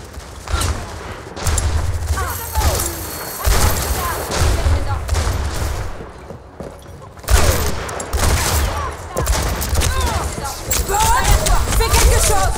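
Rifle shots from Overwatch while testing the hero Ashe, loud cracks and bursts of fire scattered throughout amid game effects, with players talking over the action.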